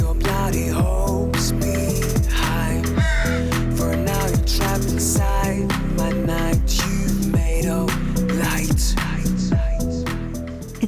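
Repeated harsh crow caws in a steady, insistent series, loud and close, continuing throughout.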